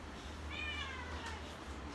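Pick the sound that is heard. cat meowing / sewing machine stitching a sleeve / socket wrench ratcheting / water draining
cat meowing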